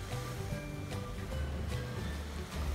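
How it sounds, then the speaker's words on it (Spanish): Ocean waves wash onto a sunny beach in a steady, continuous hiss of surf, with faint tonal sounds layered over it. "Ahí está la playa, ¿la ves? Esas son las olas"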